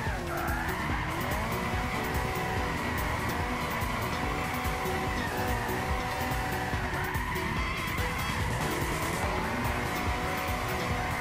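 A car drifts in Gran Turismo 6 with sustained tire squeal over a steady engine note, loud and close, continuous for the whole stretch without letup.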